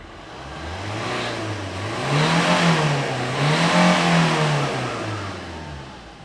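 A car engine starts and is revved repeatedly, rising and falling through two or three swells of a mid-pitched drone, close by and alone with no talk.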